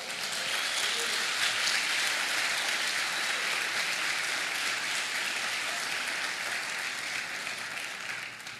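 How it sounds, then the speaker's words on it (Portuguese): A church congregation applauds during a sermon, a sustained, fairly distant wash of many hands clapping that holds steady and tapers slightly toward the end. "Você pode aplaudir o Senhor?"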